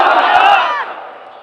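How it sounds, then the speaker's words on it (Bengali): A large gathered crowd roars a takbir chant in unison, loud and sustained, then fades over about a second. "যতক্ষণ সবার মুখ থেকে না বের হবে, এই তাকবীর চলবে আজকে"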